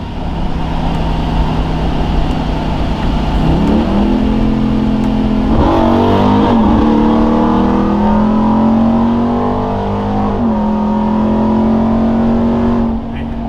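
A 2021 Ram TRX fitted with Hellcat upgrades, long-tube headers and no catalytic converters, idling deep and loud, then revving up in several rising and falling pulls before settling back, close and continuous.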